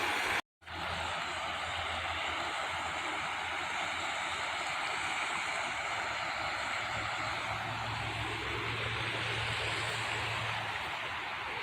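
Ogden River flowing along a valley trail, a steady broadband rush of moving water that continues evenly throughout, close and fairly loud, with a brief dropout near the start.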